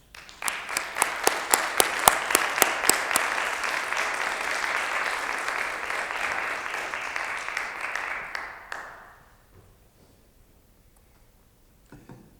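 A lecture audience welcomes speaker Sam Grant with warm applause, dense clapping with a few sharp individual claps at the start. It holds steady for about eight seconds, then fades out and leaves near silence.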